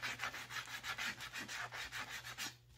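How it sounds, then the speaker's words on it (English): Edges of a wooden scrollsaw basket are sanded by hand, a soft rhythmic rasping of about a dozen quick back-and-forth strokes, close and quiet, with no talking. "Just continue around until you get it all nice and sanded and softened up."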